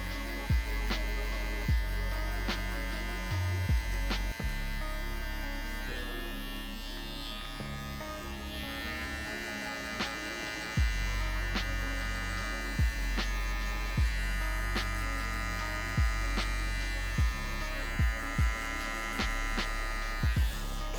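Electric hair clippers buzz steadily while cutting a skin taper fade on curly hair, a constant close, mid-loud hum broken by short regular clicks and bumps as the blade moves over the head.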